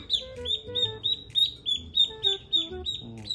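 Week-old Pekin ducklings cheeping and peeping in a rapid, repeated series of high calls, close and loud, with faint low noises beneath.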